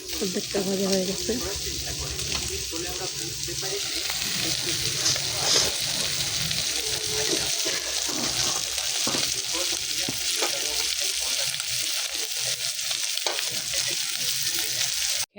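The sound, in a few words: food frying and sizzling in a pan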